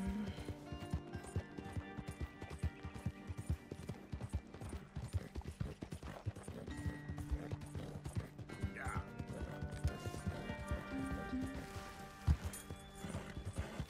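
Hoofbeats of a galloping horse under a rider in Red Dead Redemption 2: a steady, rapid clip-clop rhythm throughout, with a brief whinny. Music plays underneath and someone talks over it.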